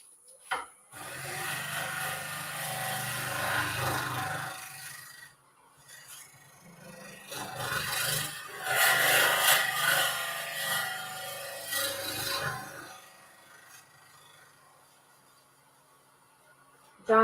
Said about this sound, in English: I'm going to switch over to the carbide so you guys can see me use that also.